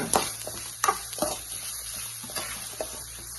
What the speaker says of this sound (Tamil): தேங்காய் சேர்த்து நல்லா வறுத்துருங்க